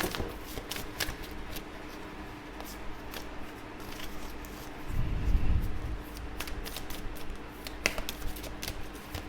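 Oracle cards are shuffled by hand in a steady run of soft riffling taps and slides, close and fairly quiet, with a brief fuller rustle partway through.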